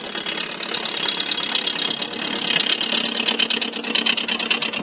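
Small wood lathe running steadily with a continuous whirring hum and a broad, hissing texture, close and fairly loud, with no talking.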